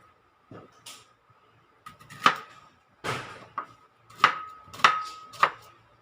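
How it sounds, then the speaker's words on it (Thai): A knife chops Thai eggplant on a cutting board in irregular strokes, about seven sharp thuds with short gaps, close up and without talk. "เดี๋ยวพี่หอมจะมาหั่นมะเขือนะคะ"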